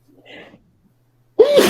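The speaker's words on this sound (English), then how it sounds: "It's like a good sneeze, though." A single sudden, loud sneeze bursts out after a stretch of near silence and faint breathing, close to the microphone.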